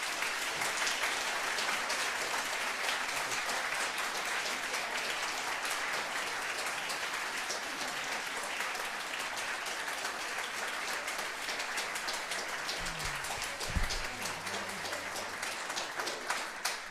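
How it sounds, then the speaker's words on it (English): An audience claps steadily in a sustained round of applause for a speaker at a public science talk about NASA's WFIRST mission, dense and even throughout with no voices. "let us one more time give Amber a warm round of applause"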